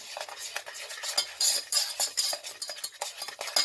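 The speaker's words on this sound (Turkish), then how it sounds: "Karıştırıyorum." A spoon stirs corn flour and sugar in a pot while making jelly bean candies, scraping and clinking in quick irregular strokes, close and fairly loud with no voices.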